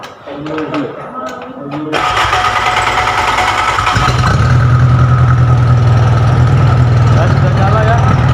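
An engine in a polytechnic mechanical engineering workshop cranks into life after a couple of seconds and settles into a steady, loud idle hum. Someone speaks briefly before it starts.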